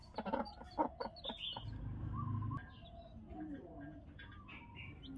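Hen and chicks clucking in a backyard coop, a burst of sharp chirps and clucks up front, then softer scattered peeps and low clucks continuing over a rustling background.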